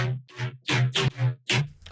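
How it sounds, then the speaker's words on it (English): Two vocoder synth parts, one of them an odd-sounding vocoder, play a riddim-style pattern together in Ableton: short, harmonically rich chopped stabs over a steady low drone, in a choppy rhythm of about five hits with gaps between. "the vocoder and the other weird vocoder actually sound pretty decent together"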